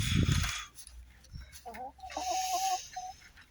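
A hen, likely a Sussex cross, gives a few short clucking calls close by after a brief handling clatter, with quiet rustling between.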